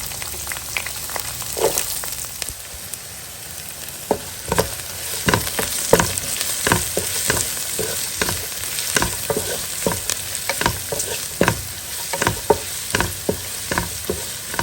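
Chopped onion sizzles and crackles in hot oil in a pan, with a steady frying hiss broken by repeated scraping and stirring clicks and no talking.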